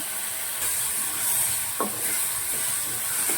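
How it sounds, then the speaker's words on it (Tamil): Onions sizzle in a hot pan for cashew egg gravy, a steady close hiss broken by a few scraping stirs of the spoon. "இப்போது வெங்காயம் வதங்கிச்சு எல்லாம் வதங்கினோடனே நல்லா வந்து திருப்பி கொடுத்து நல்லா வதக்கிட்டு"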